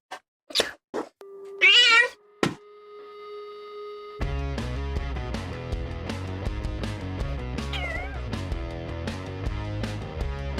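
A cat meows several times in short, close cries indoors during a live model-kit build, followed by steady background music.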